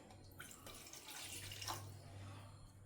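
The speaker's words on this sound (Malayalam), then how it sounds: "ഈ ഒരു ഗ്ലാസ് വെള്ളം ഞാൻ ഇതിലേക്ക് ഒഴിക്കുന്നുണ്ട്" A glass of water being poured into a container for a flaxseed hair preparation, a steady close splashing pour lasting a couple of seconds over a low background hum.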